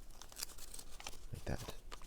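Origami paper is reverse folded and its layers unwrapped, giving faint close crinkles and soft tearing-like rustles in short bursts over quiet room noise.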